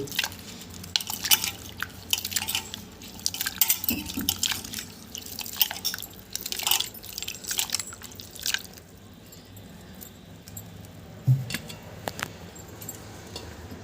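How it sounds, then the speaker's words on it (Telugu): Tamarind being washed and squeezed by hand in water in a metal bowl for fish pulusu, producing wet squelches, drips and small splashes with light clinks against the vessel, close and fairly quiet, with no speech. "ఇప్పుడు చింతపండు పులుసుని ఈ విధంగా రెండుసార్లు కడిగి పులుసుని తీసుకుందాము"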